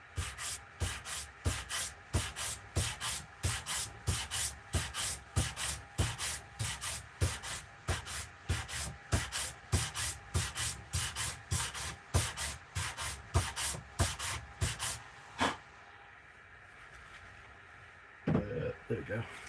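A carved wooden bowl is sanded by hand with worn 120 grit sandpaper, brisk rhythmic rasping strokes repeating steadily and close, then stopping near the end with a last scrape.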